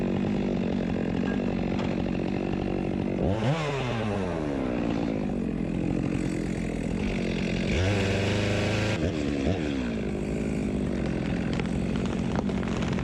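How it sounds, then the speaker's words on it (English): A chainsaw runs loudly and steadily while cutting timber during land clearing, its engine revving up and down in several surges as it bites into wood, with no voices. "So that's how much your chainsaw bites."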